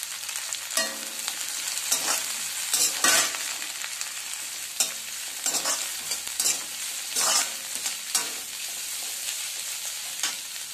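Shredded cabbage stir-fries over a high gas flame for paneer noodles, with a loud, steady sizzle and repeated scraping stirs in an irregular rhythm, close by and with no talking.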